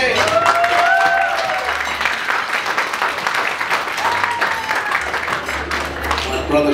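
Audience applause fills a quinceañera venue, a steady wash of clapping with cheering and whoops and some voices mixed in throughout.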